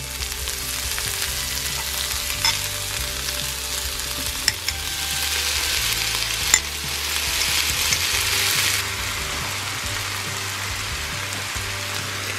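Soy chorizo with three peppers sizzles steadily in a pan, a close, continuous frying hiss with a brief louder burst of sputtering partway through, and no voices.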